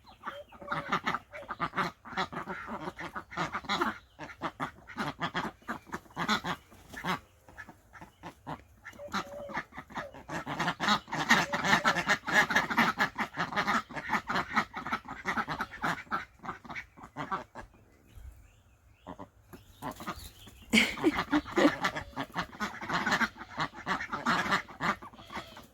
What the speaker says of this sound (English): The ducks are 10 weeks old today.